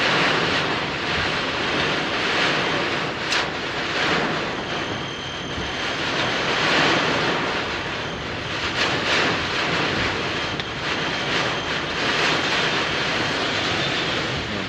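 Heavy rain pelts the roof of a taxi in a dense, continuous drumming hiss heard from inside the car, loud and steady with no talking.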